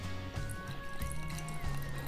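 Tovaritch Russian vodka trickles from a bottle into a glass in a thin, continuous pour with faint splashing, heard close over a steady humming tonal background.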